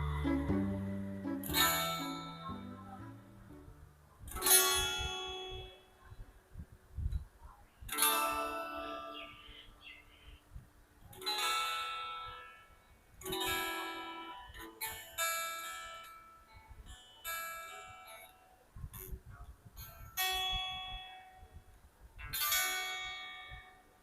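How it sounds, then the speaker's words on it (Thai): A guitar is fed through an aux cable into a phone and strummed in a slow series of chords. Each chord rings out and fades before the next one, a few seconds apart, with no talking. "เราลองเล่นกีตาร์ดูว่าเสียงมันเข้าไปที่โทรศัพท์ไหมนะครับ"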